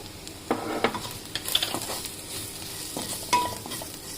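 Cumin and coriander powder fry in a pan for an Indian pumpkin stew: a steady close sizzle with a few louder scraping stirs of the spoon against the metal.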